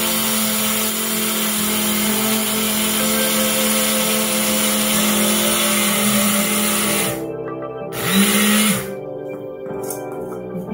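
A kitchen blender grinds granulated sugar into homemade powdered sugar with a loud, steady motor whir that runs for several seconds, cuts out briefly, then surges again before stopping.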